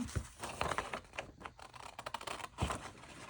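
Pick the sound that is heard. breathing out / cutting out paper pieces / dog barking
cutting out paper pieces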